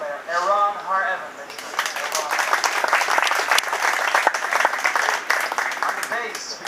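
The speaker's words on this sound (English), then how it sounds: "I want an applause for our wonderful guitar player, Aaron Har-Evan" A jazz audience bursts into dense, loud applause for the group's guitar player, following a brief spoken introduction at the start and building into steady clapping that continues to the end.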